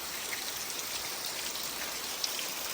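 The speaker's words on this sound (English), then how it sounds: "It's just a drizzle right now." Light drizzle falls steadily near a roadside gutter during a Jamaican rainstorm, a soft continuous hiss of fine drops with a few faint isolated patters, alone with no voices.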